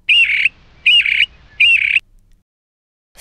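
Three loud, harsh bird squawks in an even rhythm, each about half a second long, close by, followed by silence and the start of another call.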